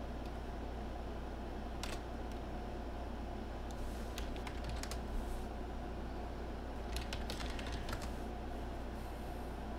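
Sparse, faint computer keyboard clicks tap now and then beneath a steady, constant hum, like a fan running in the room.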